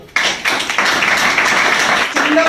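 Audience at a training meeting breaks into loud, dense applause that starts abruptly and continues steadily, with a few voices and a brief whistle-like tone near the end.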